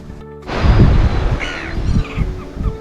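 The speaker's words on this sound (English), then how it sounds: "A meeting of the birds." Crows cawing among a gathering of birds on a beach: several harsh, overlapping caws at moderate distance over a steady outdoor rumble, no voices.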